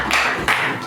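Three quick bursts of clapping for a correct puzzle answer, each a short spray of hand claps with brief gaps between, close and fairly loud.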